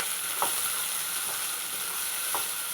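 Onions, tomatoes and green chillies frying in oil in a pan for a chicken gravy curry, a steady close sizzle with three short stirring scrapes spaced through it.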